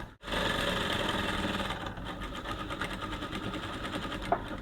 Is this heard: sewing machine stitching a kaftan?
yes